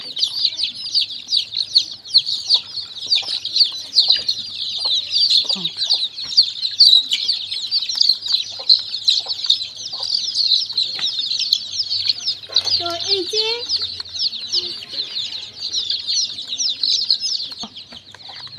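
Desi chickens and chicks on a farm cluck and chirp continuously at close range, with a busy, steady chatter throughout and a few flaps and knocks.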